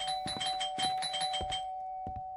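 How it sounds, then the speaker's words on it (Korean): A doorbell rings late at night in a home, repeated rapid electronic chimes pressed over and over, loud and close over a steady tone, then a pause and a final short burst. "누가 자꾸 초인종을 누르는 거지?"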